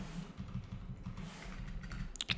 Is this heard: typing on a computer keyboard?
yes